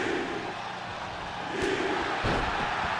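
A wrestling crowd at a Pro Wrestling Guerrilla event in Birmingham, Alabama yells and roars continuously, a dense wash of many voices with a few sharper shouts and thuds rising toward the end.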